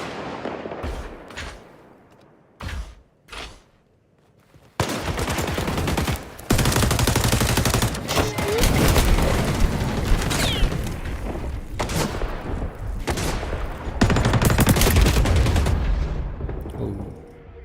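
Rapid automatic gunfire from a Call of Duty-style shooter game, loud dense bursts of shots and explosions, with a few isolated shots at first before sustained firing.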